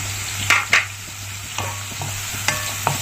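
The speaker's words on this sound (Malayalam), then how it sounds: "എന്നിട്ട് കുറച്ച് സമയം ഒന്ന് വഴറ്റി കൊടുക്കാം." Tilapia masala with green chillies sautéing in a pan: a low steady sizzle broken by a handful of sharp spatula scrapes and clicks spaced irregularly.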